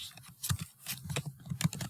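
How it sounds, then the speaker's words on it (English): Rapid clicking of keys on a computer keyboard as parameters for a pipeline component are typed into software, an irregular run of close, crisp taps with short pauses and no voices. "So I type the parameters, flow line,"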